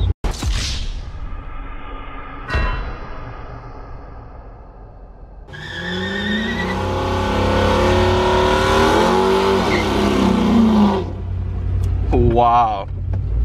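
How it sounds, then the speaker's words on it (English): A car spins one wheel in a burnout in a parking area, engine revving hard with a long roaring tire squeal and skidding whoosh, while people shout and talk excitedly nearby. "Bro, you start one wheel peeling."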